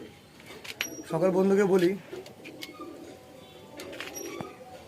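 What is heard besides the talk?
pigeons cooing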